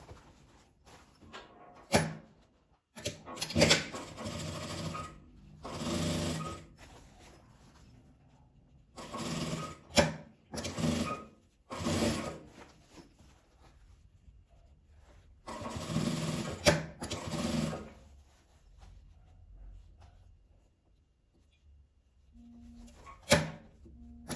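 A sewing machine stitches fabric scraps in several short bursts of rapid whirring, separated by pauses and a few clicks and knocks, fairly close and with no voices.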